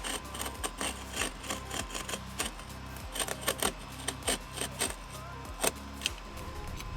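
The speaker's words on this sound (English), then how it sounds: "all we're going to do is just cut the roof lining, and we're going to expose that rib" A car's roof lining is cut through by hand to expose a roof rib, giving repeated short scraping, tearing strokes with small clicks over a low steady hum.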